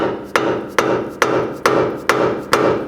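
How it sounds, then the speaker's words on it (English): Six evenly spaced, solid thuds of a dead blow hammer striking the front lower control arm of a 2010-16 Buick LaCrosse to separate the ball joint, loud and close, with no talking. "You can take a dead blow hammer and see if you can tap on the lower control arm."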